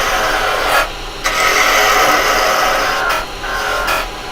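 A carbide chisel cuts into spinning wood on a lathe to taper it. A loud, close, rasping scrape is broken by two short pauses as the tool lifts off and returns.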